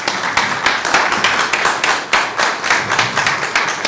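An audience claps warmly and steadily to welcome Deputy Prime Minister Ishaq Dar to the stage. The dense, rhythmic applause is close, loud and sustained throughout, with no talking.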